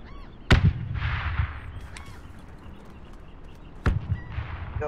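Two sharp grenade blasts strike an enemy cache building in the military shooter Project Reality, the first near the start and the second a few seconds later, over a steady rumbling battlefield background.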